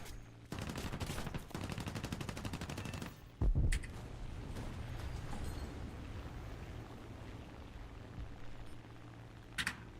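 Gunfire in the War Thunder video game: a steady, rapid automatic burst for about three seconds, then a sharp loud thump, then a lower engine-like drone with a few scattered distant shots.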